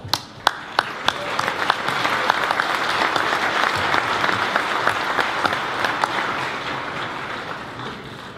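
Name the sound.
crowd applauding at boxing press conference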